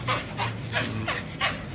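A dog pants close by in quick, regular breaths, about five huffs in under two seconds, with no talking.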